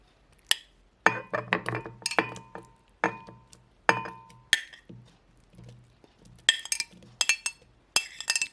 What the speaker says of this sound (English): this is our sliced one banana and chopped one mango. We put in our blender.